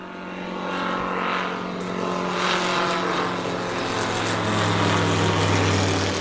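A small propeller plane passes low overhead above a lion camp, its steady engine drone loud and continuous with a strong low hum throughout, rising slightly toward the end.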